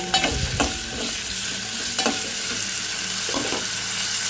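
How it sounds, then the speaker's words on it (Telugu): Pieces fry in hot oil, a steady close sizzle broken by a few scraping stirs of a spoon in the pan. "వీటిని వీటినైతే బాగా అయితే ఆయిల్లో ఒక ఫిఫ్టీ పర్సెంట్ అయితే బాగా ఫ్రై చేసేసుకోవాలి"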